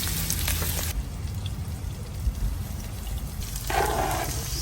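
Minced beef browning in a one-pot camp cooking pot, a soft broadband sizzle and crackle running steadily throughout, growing brighter and louder near the end, with outdoor rumble underneath.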